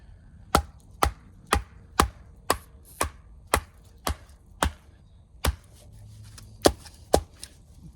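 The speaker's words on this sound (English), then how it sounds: "Pretty knotty little piece of cedar here, going right through the middle of one knot." A full flat grind knife is batoned through knotty cedar, right through a knot, with about a dozen sharp, evenly spaced wooden knocks ringing out close and loud over a quiet background.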